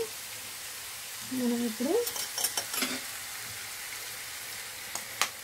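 Eggs frying in a pan for fried egg Maggi noodles give a steady soft sizzle with a brief stirring scrape, while a voice speaks over the cooking.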